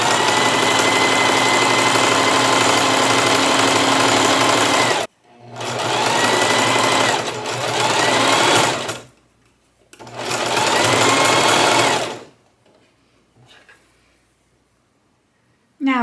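A sewing machine runs a stretchy half-inch back seam on a t-shirt in three loud, close bursts of rapid stitching, separated by short pauses, the last burst ending in near silence.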